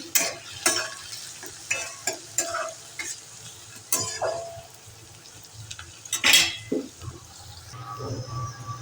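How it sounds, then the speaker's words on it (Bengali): Grated garlic sizzles in a pan under repeated scraping and stirring with a utensil, giving sharp intermittent clatters over a steady frying hiss. "রসুনটা ভালো ভাজা হয়ে গিয়েছে"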